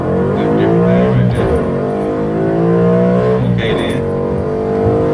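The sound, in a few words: car accelerating with engine revving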